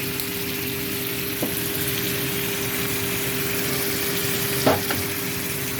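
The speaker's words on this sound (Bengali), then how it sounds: "মাংসটাকে ভালো করে নাড়াবো" Mutton in a curry pan, dusted with a little ground cinnamon, gives off a steady, close frying sizzle. A couple of soft scrapes come as it is stirred.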